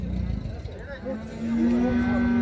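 Cattle at a livestock market in Uzynagash, Almaty region, give a long, loud, sustained moo that swells toward the end over the general market murmur.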